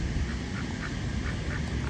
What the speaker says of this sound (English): The mother ducks are running from that white duck.